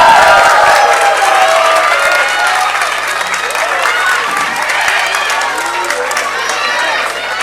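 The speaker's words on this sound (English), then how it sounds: "A big thank you to our wonderful audience for cheering them with so much love" A school audience at Little Palm School applauds and cheers, loud sustained clapping with whoops and high voices rising over it, steady from start to finish.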